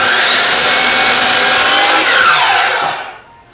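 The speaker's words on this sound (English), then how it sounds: "after spending some time on the miter saw" A miter saw cutting wooden supports for ladder steps, a loud high whining blade rising through the cut then spinning down and fading near the end, close by with no speech.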